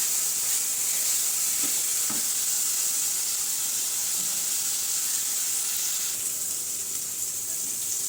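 Spice paste (masala) frying in a pan while cooking prawns, a steady close sizzle and hiss throughout with faint stirring clicks, no talk.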